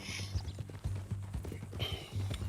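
A horse in Red Dead Redemption 2 walks with uneven clip-clop hoofbeats and snorting, fairly close, with a brief higher breathy sound near the end.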